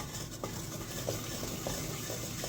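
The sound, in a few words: besan (gram flour) frying and being stirred in oil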